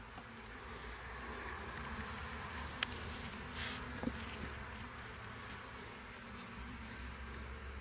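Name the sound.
honey bees buzzing around an open hive during inspection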